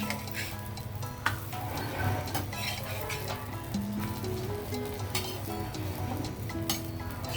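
Ghee sizzles in a hot pan while bobbatlu sweet flatbread fries, a continuous crackling hiss with scraping stirs mixed in. It stays close and steady, with no talk.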